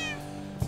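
A cat meows in Minecraft, a short, faint meow with a higher tonal cry at the end.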